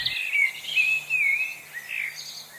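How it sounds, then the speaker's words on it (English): Several birds sing together on an early summer morning in the English countryside, bright continuous chirps and warbling phrases overlapping steadily at moderate distance, with no voices. "These early summer mornings are rich with birdsong"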